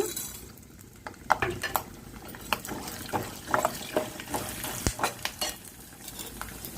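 Peanuts fry in hot tempering oil in a pan, giving a steady low sizzle broken by repeated sharp clinks and scrapes of a spoon stirring, close and fairly quiet, with no talk.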